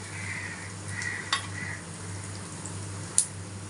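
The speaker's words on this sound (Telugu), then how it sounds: "ఇది మంచిగా వేగాలండి దోరగా వేగాలి వేయించుకోవాలి మంచిగా" Dry lentils (chana dal, toor dal, urad dal) roast with coriander seeds in a pan, giving a soft sizzle and stirring scrape under a steady low hum, with a couple of sharp metallic clinks of a spoon against the pan.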